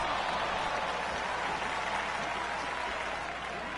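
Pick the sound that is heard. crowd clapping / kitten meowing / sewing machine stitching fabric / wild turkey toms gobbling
crowd clapping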